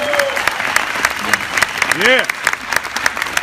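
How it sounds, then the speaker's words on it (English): A seminar audience claps and cheers for Patrick Brown, the steady applause filling the room while a voice chimes in briefly above it. "Give him a round of applause."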